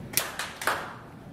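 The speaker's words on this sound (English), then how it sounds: "clap your hands again if you're in the process of a digital transformation or modernization." A conference audience claps: three sparse, separate claps in quick succession, fairly faint, with no talk over them.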